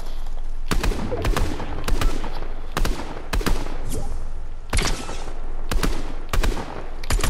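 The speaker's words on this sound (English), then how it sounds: "Hey, start shooting." Rapid bursts of gunfire in the video game Fortnite, roughly ten sharp, loud shots in an irregular rhythm, some in quick pairs, over a steady background of game ambience.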